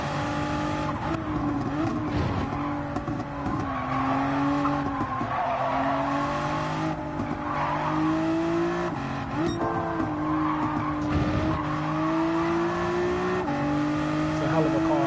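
A racing car in a video game drives hard with a steady engine drone and shifting pitch as gears change, tires skidding and squealing through corners, loud and continuous under occasional speech.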